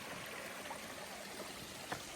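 A mountain stream flowing steadily over rocks on a hiking trail, a continuous broadband rush and gurgle, close and even throughout with no voices.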